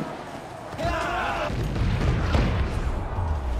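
A ship's cannon fires at a tower in Assassin's Creed 4, a loud booming shot with rumbling low-end that sustains and rolls on under continued game noise.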